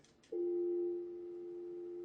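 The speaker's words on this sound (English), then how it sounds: "There's your dial tone." A couple of soft clicks, then a steady, continuous VoIP office phone dial tone hums at even volume.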